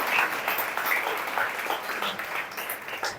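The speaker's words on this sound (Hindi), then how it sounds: "ताली बजाकर प्रभु को धन्यवाद करिए" A church congregation claps in thanks during a pastor's service, a sustained wash of many hands applauding together, loud and even, tapering slightly toward the end with no talk over it.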